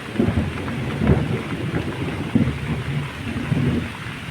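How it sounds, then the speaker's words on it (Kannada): Heavy rain pours steadily over farm fields while thunder rolls and cracks in several bursts, the rumbles rising above the constant wash of rainfall. "ಸರಿಯಾಗಿ ಹೊಡಿತಾ ಸಿಡ್ಲು ಮಾತ್ರ."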